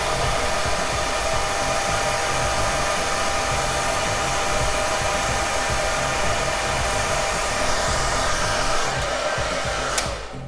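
A hair dryer on its cool setting blows steadily and loudly on a handlebar mustache, a constant broadband whoosh lasting throughout with a brief click near the end.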